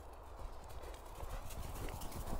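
A horse's hooves clip-clop in a steady run of hoof beats as it approaches, faint under steady broadband background noise, with no clear speech.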